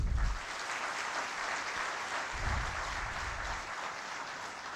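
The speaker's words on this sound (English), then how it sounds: "give the ICAP, the Institute of Chartered Accountants of Pakistan, a big round of applause" Conference audience of the Institute of Chartered Accountants of Pakistan applauding at a golden jubilee event, a full sustained roar of clapping filling the hall, with a couple of low thumps, and no speech over it.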